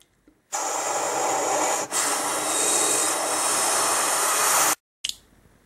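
Rocket engine thrust from a Thunderbirds craft straining during a failed lift-off: a loud, steady broadband roar that runs for about four seconds with one brief dip, then cuts off abruptly, leaving faint residual noise.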